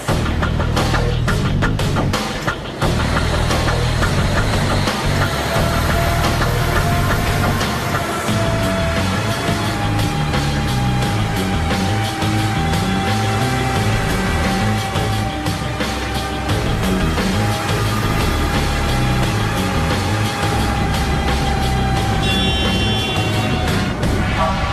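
A truck held at maximum speed on a roller bench test stand produces a loud, continuous mechanical roar with a steady droning tone and rattling, sustained throughout without voices.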